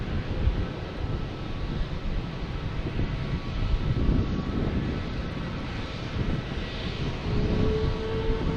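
An airliner in special Continental Airlines livery moves at Logan Airport, giving a steady broadband jet roar at moderate distance with wind buffeting the microphone.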